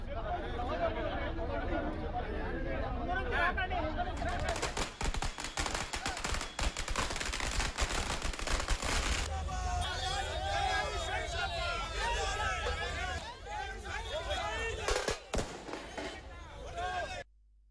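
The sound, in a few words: firecrackers bursting at a bus stand celebration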